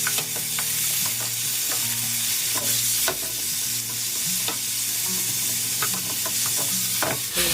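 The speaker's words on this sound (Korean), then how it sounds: "충분히 달궈졌을 때 감자채 넣겠습니다." Julienned potato strips stir-fry in a hot pan over high heat, giving a loud, continuous sizzle close by, broken by repeated scraping and clicking strokes of a utensil against the pan.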